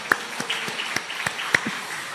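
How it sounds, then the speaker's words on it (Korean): A church congregation at a Sunday worship service gives scattered, uneven applause, with a handful of distinct claps standing out over a quiet room. "우리 격려의 한 박수 한번 쳐주시죠."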